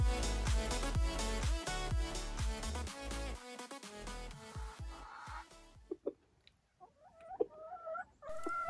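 A splash rooster clucks softly and murmurs in short, low, irregular calls, close and fairly quiet, following a stretch of rhythmic music at the start.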